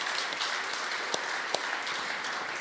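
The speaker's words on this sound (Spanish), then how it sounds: "Apláudele fuerte." A church congregation claps and applauds steadily in a dense, continuous wash of hand claps, with a couple of sharper individual claps standing out and faint voices underneath.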